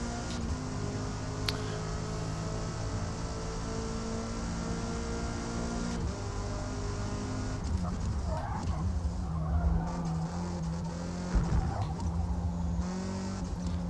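A race car in the Forza Motorsport video game braking into a corner and then powering out, a loud sustained engine drone that steps through gear changes with brief tire squeal, and a voice talking over it near the end.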